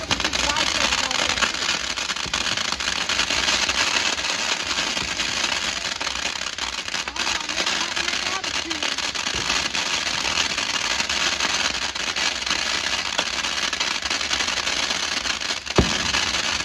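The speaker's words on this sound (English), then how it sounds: "everybody is scared of the fireworks" Fourth of July fireworks crackle and pop continuously nearby, a dense, noisy barrage of small bursts and sputters that fills the whole stretch, with one sharp louder bang near the end and a voice talking now and then.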